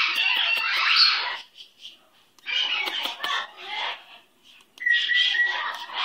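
Pet bird Dookie gives bursts of high, bright calling and chirping in three separate clusters, fairly close and loud, with short quiet gaps between them.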